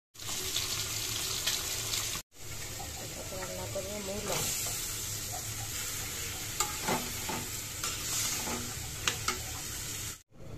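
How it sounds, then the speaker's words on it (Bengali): Bitter gourd frying in oil, a steady sizzle with stirring and scraping throughout, with brief running-water and clatter sounds near the end and a short gap early on. "উস্তা ভাজিতে একটু তেল বেশি না দিলে স্বাদ লাগে না"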